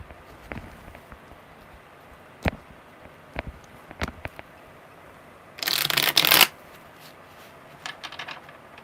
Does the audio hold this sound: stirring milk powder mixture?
no